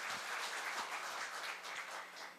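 Quiet, steady applause from the audience at a Korea University graduate school evening event, a soft continuous patter of many hands heard from some distance.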